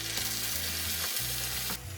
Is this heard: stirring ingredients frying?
yes